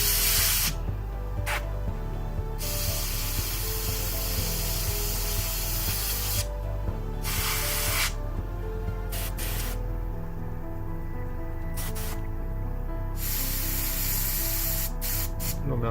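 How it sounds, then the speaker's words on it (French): An airbrush sprays paint onto a miniature Scion trooper's weapon in bursts of steady close hiss, separated by short pauses, over a low continuous compressor drone. "pas l'habitude de faire les armes à l'aérographe, mais ici, rajouter un tout petit peu d'éclaircie sur le bout"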